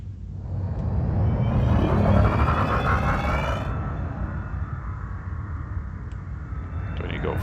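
A spaceship engine throttles up in the Elite Dangerous video game, giving a loud steady rumble with a rising whine that swells and then holds while a person talks over it.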